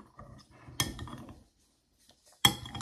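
Sardines being mixed with lime in a dish, with a few close clinks and scrapes of utensil on dishware in two sharp bursts separated by a quiet pause.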